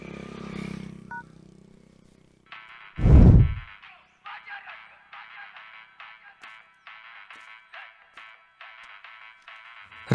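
A mobile phone rings with a repeating electronic ringtone in regular short bursts. A brief loud thud and some low rumble come before it.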